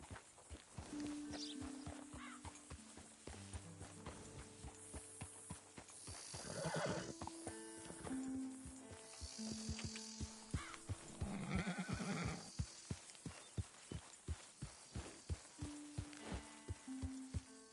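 A horse in the Red Dead Redemption 2 video game neighs twice over steady clip-clopping hooves, with tonal game music running beneath throughout.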